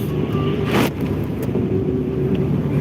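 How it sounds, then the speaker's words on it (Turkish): Cars passing on a snowy road in Güneşli's Kelçe neighbourhood during snowfall, a steady close engine and tyre rumble with a brief louder swish as one vehicle goes by, plus some wind buffeting on the microphone. "Gelen arabaları görüyorsunuz."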